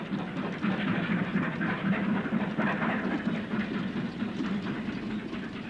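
A former Crosti-boilered 9F steam locomotive hauls its train out at Springwood Junction on a 1960s Pennine line. A steady, fairly distant rumble of wheels and wagons rolls past with no break.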